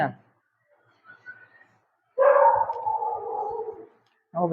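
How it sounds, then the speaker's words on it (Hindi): A dog gives a drawn-out, wavering bark close by, with short yelping bursts just before and after and quiet gaps between. "डोगी भौंकने ना डोगी"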